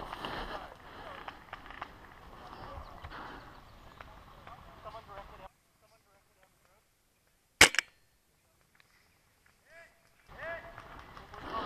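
A single sharp crack from a tuned VSR-10 airsoft sniper rifle fired during an outdoor airsoft game, loud and close, rising out of a near-silent pause. Brief, isolated, with a faint rattle after it and talk before and after.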